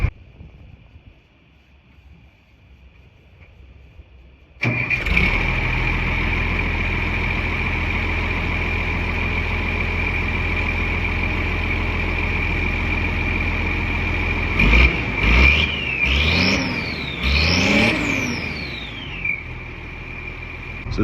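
A car engine fitted with a Whistler turbo muffler cranks and fires up after a quiet moment, settles into a loud steady idle, then revs several times, its whistling pitch rising and falling with each rev.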